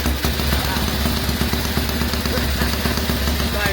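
A 4-stroke motorcycle engine, carburetted and just started at a swap meet, idling loud and close with a steady rapid chugging rhythm and clatter, and voices nearby.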